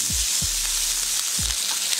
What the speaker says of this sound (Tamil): இதையும் நெய்யில் வதக்கி விட்டுக்கலாம்.